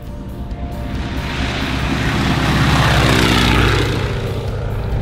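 A Stearman biplane's engine roars at maximum power, a loud steady propeller drone that swells slightly and holds, close to the listener.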